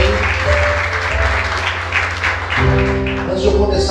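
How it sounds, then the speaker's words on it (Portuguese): A church congregation at a Portuguese-language sermon claps loudly, a dense wash of applause with music or a held tone sustained beneath it throughout. "Você pode aplaudir Jesus muito forte?"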